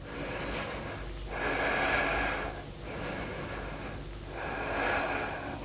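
Slow, steady breaths during a beginner yoga strength session, soft airy inhales and exhales swelling and fading in a regular rhythm, close and fairly quiet, with no talking.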